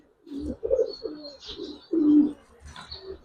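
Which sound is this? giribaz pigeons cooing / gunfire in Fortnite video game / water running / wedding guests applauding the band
giribaz pigeons cooing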